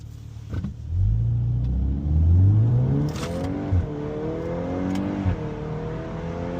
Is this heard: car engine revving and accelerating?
yes